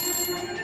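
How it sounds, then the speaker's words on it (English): A mobile phone ringtone sounding, a short, loud, bright electronic tone heard alone and close. "Oh, there's my phone."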